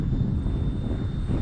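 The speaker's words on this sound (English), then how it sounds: "What a great flying jet." An E-flite Viper RC model jet flies by with a steady, broad rushing whine of its ducted fan, sustained and fairly loud with no talk.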